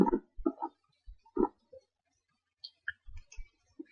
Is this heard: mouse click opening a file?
yes